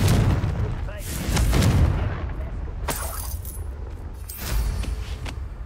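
The Confringo blasting spell goes off in Hogwarts Legacy with loud booming explosive bursts and crackling debris, a heavy blast at the start followed by further sharp impacts, with game voices faintly mixed in.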